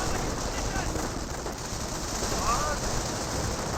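BAR rifles firing at long range on Volksgrenadiers in the WWII strategy game Company of Heroes, a continuous rattle of small-arms fire and battle noise under a talking commentator's voice.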